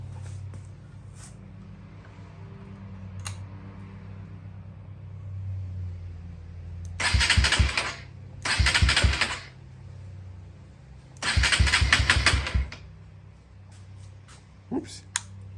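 A 2023 Honda XR150L motorcycle with an aftermarket exhaust, heard as a low idle rumble under three loud, rattling revving bursts, each lasting about a second, at close range.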